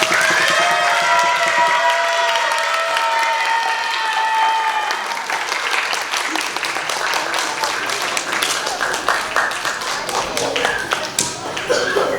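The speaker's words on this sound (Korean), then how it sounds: "큰 박수 부탁드릴게요" Children and adults applauding at a church English Bible school session, lively clapping that grows denser and sharper over about twelve seconds, with scattered louder individual claps and a sustained tone fading out early on.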